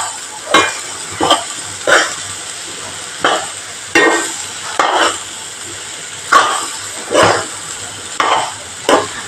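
Green peas masala stirred and roasted in a pan, with a spoon scraping in steady repeated strokes about once a second over a low continuous sizzle, close and fairly loud, with no talking.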